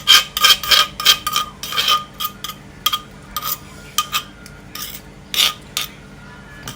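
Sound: scraping chili paste from a mortar bottom

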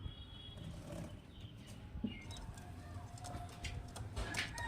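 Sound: pigeons cooing, Kalshira and Highflyer pigeons

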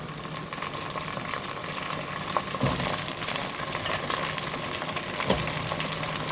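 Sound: eggplant frying in oil

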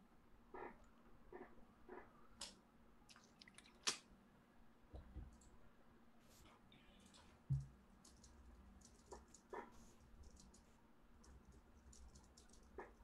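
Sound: typing on a keyboard

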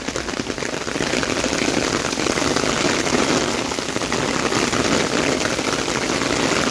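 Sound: heavy rain

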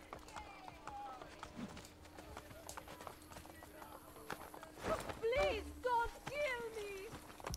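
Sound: horse hooves in video game Assassin's Creed Brotherhood

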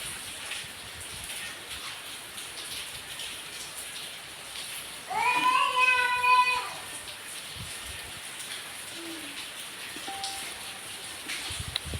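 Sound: rain outside a temple

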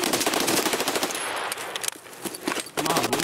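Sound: gunfire in Escape From Tarkov video game

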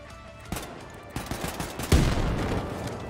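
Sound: grenade explosions and gunfire in the video game Wolfenstein: The New Colossus

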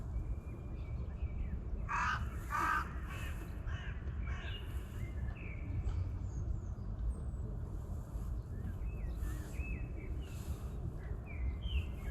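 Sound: birds calling

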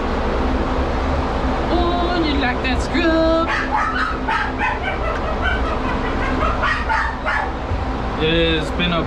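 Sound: dog barking

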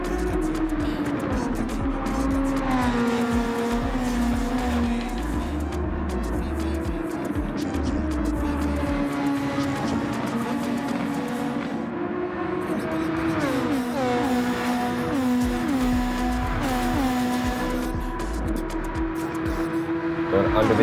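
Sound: Lamborghini and Nissan race cars passing at Monza

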